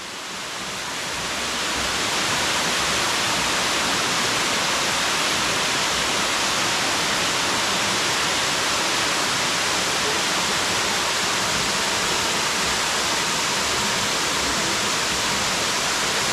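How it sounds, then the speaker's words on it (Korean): A tall mountain waterfall dropping nearly vertically roars in a loud, constant wash of rushing water, swelling in over the first two seconds and then holding steady with no voices. "지금까지의 다른 폭포들에 비교될 만큼 수직에 가까운 각도로 떨어지고 있다."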